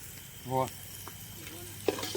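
Spices sizzle and crackle in hot oil for a paneer curry cooked outdoors in a farm field, a soft steady frying hiss with a brief voice and a few small clinks.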